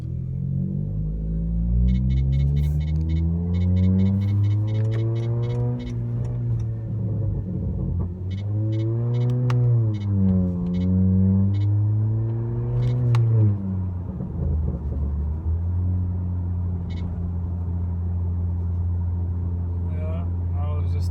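A 2019 Honda Accord with resonator and rear muffler deleted roars loudly through rising and falling revs, its deep exhaust drone swelling and dipping over about twenty seconds, close and continuous.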